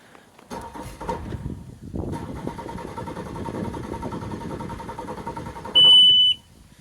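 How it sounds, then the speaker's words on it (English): A 2004 Bayliner 180BR boat's Mercury engine runs at high idle, a steady mid-pitched drone close by, preceded by a brief starting burst and followed by a loud electronic beep near the end. "you push this button and this button at the same time to go to high idle"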